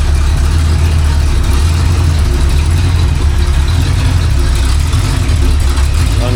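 Rebuilt Ford 289 V8 engine with freshly broken-in cam idling on a homemade stand, a loud, steady, close rumble with a deep throb and no talking.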